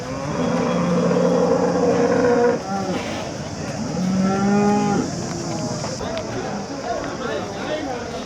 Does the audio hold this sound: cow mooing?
yes